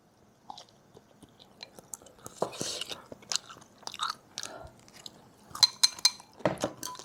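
Wet, crunchy chewing of Sichuan hotpot meat eaten at home, close and intermittent with several sharp bites and a few clinks of dishes or cutlery between them.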